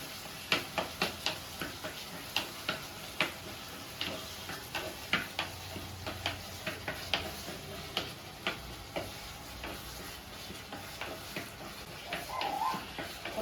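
Onion and tomato sautéing for crab masala, heard as a steady faint sizzle with repeated sharp ticks of a spoon scraping and tapping the pan, no talking.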